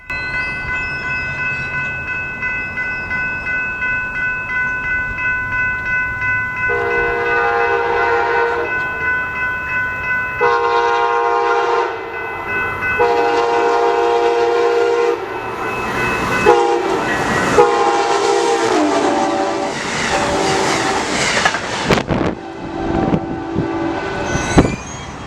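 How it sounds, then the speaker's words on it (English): Amtrak Cascades 518 passenger train approaching, its horn sounding in several loud, sustained chord blasts that grow closer and stronger, with rumbling and clattering wheels building beneath the horn toward the end. "Our next train approaching is Amtrak Cascades 518."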